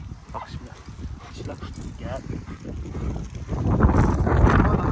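A young dog whimpers and gives short yips and barks outdoors, close by and intermittent, while someone talks over it and wind or movement noise rises toward the end.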